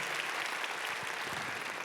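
Steady applause from a church congregation welcoming newcomers at a Korean church worship service, a dense wash of many hands clapping continuously for about two seconds with no voices.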